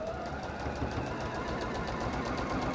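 A sewing machine stitches fabric with a steady, quiet mechanical whir and a fast rhythmic tapping, running continuously at close range without talk.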